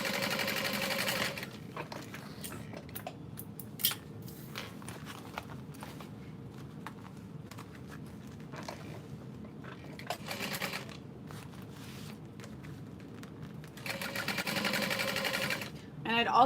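Sewing machine top stitching through a diaper bag test piece with its lining, running in bursts with short pauses; a voice talks over it throughout.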